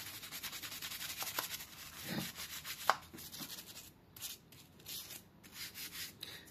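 Contacts on an SNK MVS arcade board are rubbed clean, giving a close, steady dry scrubbing with repeated back-and-forth strokes that fade and thin out toward the end, with no voices.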